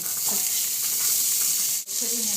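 Onion and aromatics sizzling in a pan for braised short ribs, a dense, even hiss close up with a brief dip near the end before the sizzle resumes.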